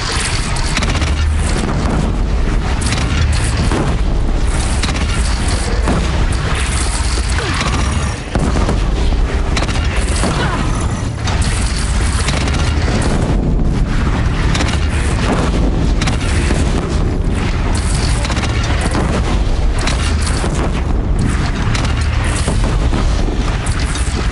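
Cannon fire and explosions in the video game Horizon form a dense, loud, continuous barrage of booms and blasts with no quiet gaps.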